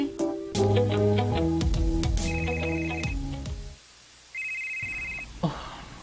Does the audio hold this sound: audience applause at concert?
no